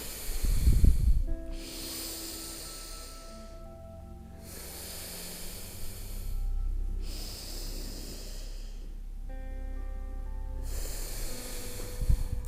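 A person exercising exhales in long, audible breaths, several slow hissing puffs spaced a few seconds apart, close and clear over a faint background hum.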